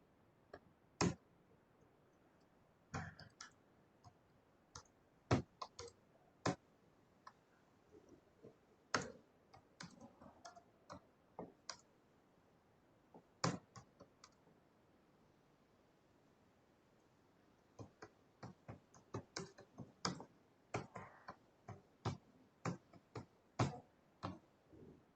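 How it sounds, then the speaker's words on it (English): Typing on a computer keyboard, faint but crisp key clicks arriving in irregular bursts with short pauses between runs, quiet background and no talking. "So in Joule-Thomson's experiment, let me type it here."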